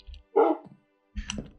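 A tamed wolf dog in the Minecraft video game gives a single close bark, followed by a short whining yip, with brief quiet gaps around them.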